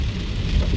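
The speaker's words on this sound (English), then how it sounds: "the rain starts to fall a little more heavily now" Heavy rain pouring on a Las Vegas street away from the Strip, a loud, close wash of drops with a low rumbling undertone, brief and continuous with no speech.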